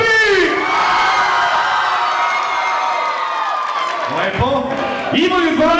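A school crowd in an indoor hall cheers and shouts loudly, a dense roar of young voices that swells, dips briefly and rises again.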